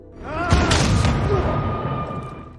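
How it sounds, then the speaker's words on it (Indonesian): A loud gunshot cracks out early in an action film scene, with a second sharp blast right after, over dense dramatic music and rumbling background. "tembakan Rose membuat Knuckles tewas di tempat"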